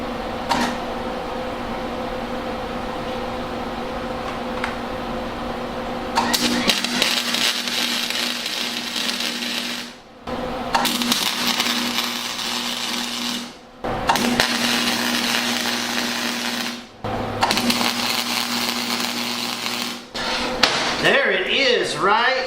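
Angle iron for a welding cart shelf is tack welded in several short buzzing, crackling bursts separated by brief pauses, with a background hum and some talking in between.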